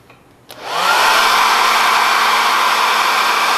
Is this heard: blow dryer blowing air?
yes